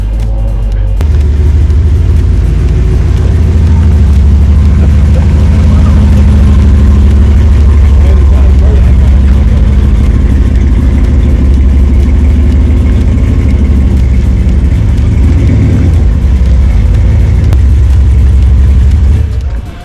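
Ford Falcon engine idling after being started for the first time in two years, a loud, steady, deep rumble that runs nearly unbroken, with people talking faintly underneath.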